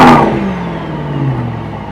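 A 2025 Mercedes-AMG GT 63 S E Performance engine in Sport Plus gives a loud rev at the start, then settles into a falling, rumbling idle with exhaust burble, close and alone.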